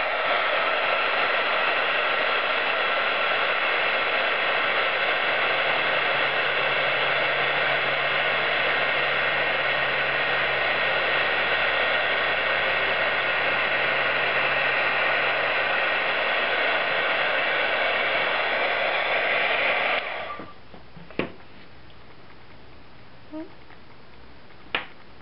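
A handheld heat tool blows a loud, steady, hissing roar for about twenty seconds as it melts embossing powder, then switches off, leaving a quiet room broken by a few small taps.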